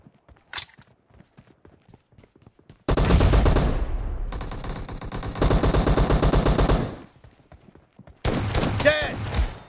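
Bursts of rapid gunfire in PUBG team deathmatch, a loud sustained volley, then another after a pause and a third at the end, with sparse footstep-like taps between and no talk.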